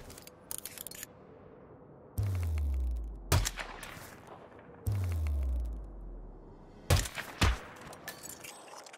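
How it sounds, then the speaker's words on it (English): Sniper rifle shots in the Hitman video game, set at Hantu Port in Singapore: two heavy booming shots, each with a falling low rumble, then sharp metallic bolt clicks and clatter, loud and close. "Nice shot, 47."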